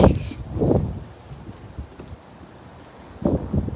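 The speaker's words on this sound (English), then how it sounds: "not even once in my life has the wind been this much, well, this crazy" Strong gusts from a severe windstorm in Roseville, California buffet the microphone in loud rumbling bursts at the start and end, with a calmer stretch between.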